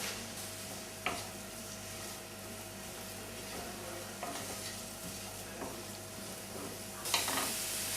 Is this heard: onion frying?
yes